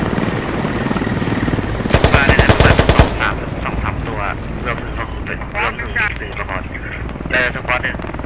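Rapid bursts of automatic gunfire in the video game Squad crackle loudly, with a dense volley early on and scattered shots after, while excited voices talk over the action.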